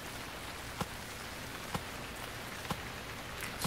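Steady rain hiss in the survival game Stranded Deep, a continuous broadband wash with a few louder drip-like ticks spaced about a second apart, no voices.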